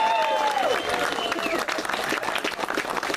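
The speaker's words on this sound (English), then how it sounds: "Always get some of the loudest applause." Rally crowd applauding and cheering for candidate Lori Schreiber of Ward 14, a loud continuous wash of clapping with voices mixed in throughout.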